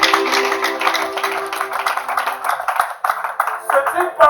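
A church congregation claps continuously to acclaim Jesus, a dense, loud patter of many hands with voices mixed in.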